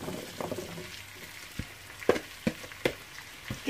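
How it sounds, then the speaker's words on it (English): Onions and carrots sizzle in melted butter in a pan, a quiet steady fry broken by several sharp clacks of stirring or tossing, with no talking. "Now that butter's melted, onions and carrots in."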